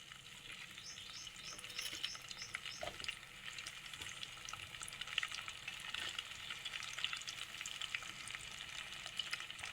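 Ivy gourd pieces and green chillies cooking in oil for a gourd chutney, a soft continuous frying crackle with faint intermittent stirring scrapes throughout, quiet and close, no talk.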